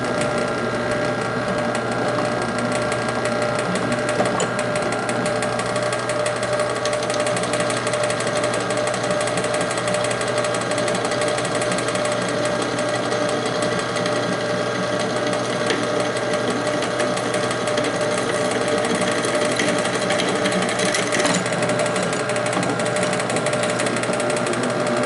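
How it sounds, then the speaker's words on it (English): A drill bores a 3/8 inch through hole in a stand, a steady, loud, unbroken mechanical whir with a constant rattling buzz throughout. "we changed our bit to the 3/8 inch for the through hole that goes into the coupling nut in the stand"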